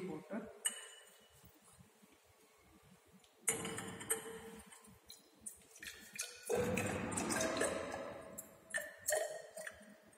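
Distilled water is poured into a glass Nessler cylinder on a lab bench during a heavy-metal limit test, a rushing trickle with light glassy clinks and drips, close and moderately loud between quieter handling sounds.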